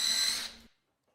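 A power driver whines briefly while sinking a countersunk screw into wood, then spins down and stops, leaving near silence.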